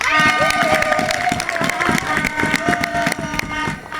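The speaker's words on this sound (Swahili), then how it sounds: "Sisi tuliokuja hapa tuwapigie makofi hao wenyeji." A congregation applauds the hosts at the close of a Sunday church service ending a youth conference: dense, continuous clapping with crowd voices and a sustained tonal backdrop, loud and close.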